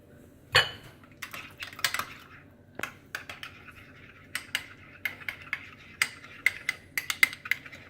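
Ingredients for a salt crust for sea bass are mixed in a bowl. Irregular bright clinks and taps of a utensil against the dish come close and clear, quickening toward the end, with no talking.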